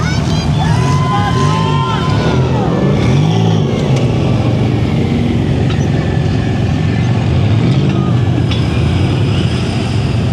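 An off-road car's engine revs and strains while it reverses down a steep wall at a hill-climb event, with loud rising and falling throttle bursts over a crowd and people talking throughout.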